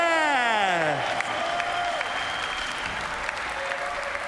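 A crowd at a live skateboarding session applauds and cheers a skater from Brazil, a broad steady wash of clapping heard from a distance, opening under a falling electronic tone.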